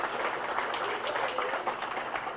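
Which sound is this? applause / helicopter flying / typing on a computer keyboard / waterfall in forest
applause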